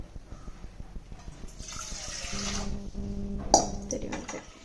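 Water pours steadily into a pot, a splashing rush that builds and ends with a brief clank, over a low background hum.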